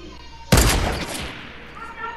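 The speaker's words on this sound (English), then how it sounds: "Cause I got this dude up here shooting" A single loud burst of gunfire from an online shooter game erupts sharply and decays over about a second against a low background hum.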